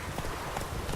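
The horse Roach gallops in The Witcher 3 with a fast, rhythmic drumming of hooves, close and fairly loud, while a voice speaks faintly over it.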